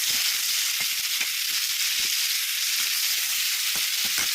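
Cauliflower pieces fry in hot oil in a pan, giving a steady, loud, close sizzle throughout, with scattered small pops and crackles and no voices.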